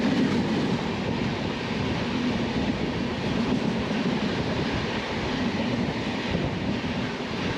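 A Kerala Sampark Kranti Express train runs at speed near Ambala, giving a steady, unbroken rumble of wheels and carriages that stays loud and even throughout, with no voices.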